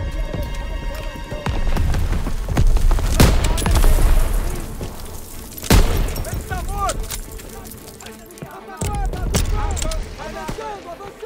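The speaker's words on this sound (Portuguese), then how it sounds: "Um cara atirando lá de cima, cara." Gunfire from an enemy firing down from a high position in Call of Duty WWII, with sharp shots and bursts scattered across the scene, mixed with battle noise while someone talks over it.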